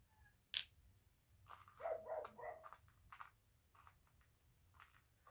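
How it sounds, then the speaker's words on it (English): Lacey, a dog, barks in a few sharp, moderately close bursts, mixed with faint clicking and tapping in a quiet room and no talk. "Lacey has more barking stamina than any dog I've ever seen."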